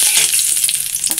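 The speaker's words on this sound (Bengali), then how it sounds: "মাছ ভাজার তেলের মধ্যেই ফোড়ন দিব কালো জিরা আর তেজপাতা দিয়ে" Black cumin seeds and bay leaf dropped into hot oil left over from frying fish, giving a brief, bright hiss and crackle of sizzling at close range.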